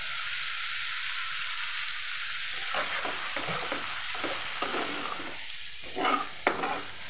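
Fried prawns tipped into a pan of simmering masala, a soft hiss that turns into bursts of sizzling and scraping as they are stirred, with a louder clatter near the end, close and without voices.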